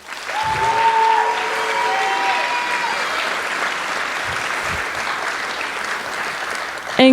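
An audience at a university photo night event claps in sustained, dense applause. It stays even from start to finish and no one talks over it.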